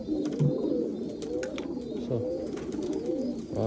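A pigeon coos up close in repeated soft, throaty phrases that roll on without pause.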